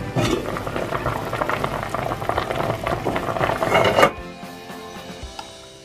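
Marinated meat bubbles and simmers in water in a pot on the stove, a steady close rolling boil that cuts off abruptly near the end, with no talking.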